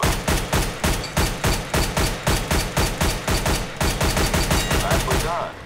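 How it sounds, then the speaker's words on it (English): A high-caliber rifle in Counter-Strike: Global Offensive fires rapidly through a wooden panel, a loud, evenly spaced string of about twenty sharp shots close up, ending in a brief tail. "High caliber firearms can penetrate materials."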